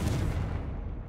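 A fiery blasting spell goes off in the Hogwarts Legacy video game, one short, loud, booming burst like artillery fire that quickly fades, with no talk.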